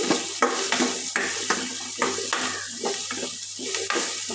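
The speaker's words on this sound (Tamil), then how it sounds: "பப்பாளியெல்லாம் வந்து இதில் சேர்த்துடலாம் நல்லா கிளறி விட்டுக்கோங்க" A spoon scrapes and stirs papaya kootu in a pan with rhythmic strokes about twice a second, close and fairly loud, with a faint sizzle underneath and no voices.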